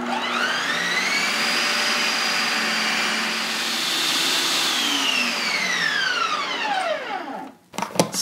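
A Ninja Creami-style ice cream machine spins a dairy-free coconut oil keto ice cream on the light setting, giving a loud, steady motor whine whose pitch sweeps up and down before stopping with a few clunks.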